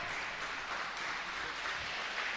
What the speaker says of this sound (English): A lot of the women in attendance also cheering.